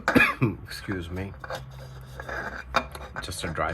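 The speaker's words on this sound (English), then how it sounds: "just a dry cough, not that I'm sick." A dry cough from a man partway through an engine oil change on a Mercury Mountaineer: a couple of sharp, close coughs and a throat clear, followed by quieter background noise and faint clinks.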